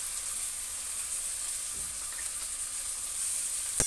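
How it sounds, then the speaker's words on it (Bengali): Ginger, chili and garlic paste sizzling steadily as it is sautéed in a pan, a soft continuous hiss without talk. "ভালো করে এগুলো কষিয়ে নেব"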